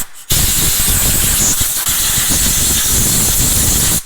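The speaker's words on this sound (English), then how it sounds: "I'm gonna take the air hose and just blow out any junk out of the way." Compressed air hisses steadily from an air hose blowing debris out of a Dodge engine bay around the removed intake manifold, a loud continuous close-up blast lasting about four seconds with a brief dip midway.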